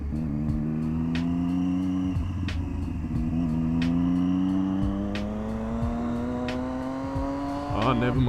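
A Mazda RX-7 at a JDM car meet, its engine note rising steadily in pitch as it revs and pulls away nearby, with a low rumble underneath and brief voices in the background.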